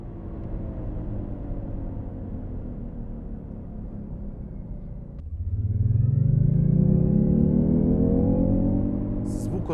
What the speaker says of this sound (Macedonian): Се слушаат само пневматиците кои газат на асфалтот